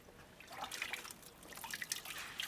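A horse's skull cap is dipped into cold water, giving a close, continuous splashing and trickling of liquid with small drips, steady in level and without speech.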